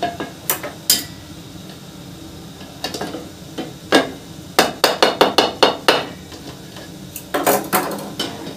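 Ugali and cabbage being stirred together in a cooking pot, with a series of sharp scraping knocks of a spoon against the pot, irregular and close, coming in bursts over a low background hiss.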